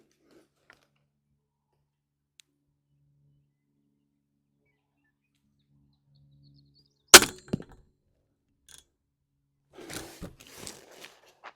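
A single sharp crossbow shot cracks out nearby in an otherwise quiet outdoor range, followed a few seconds later by faint thuds and rustles as the arrow strikes a distant target.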